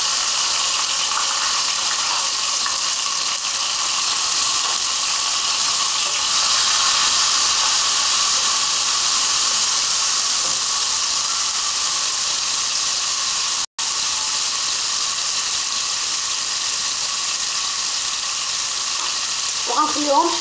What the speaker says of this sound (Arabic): المقله ديالنا من بعد ما سخنات انا غادي ندير فيها شويه ديال الزيت. غندير هاد البصله وهاد الحبه المطيشه